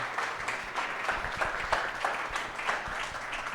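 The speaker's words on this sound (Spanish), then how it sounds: "un fuerte aplauso para don Roy" Steady applause from an audience at a business talk, a continuous wash of many hands clapping at moderate distance, with no voices over it.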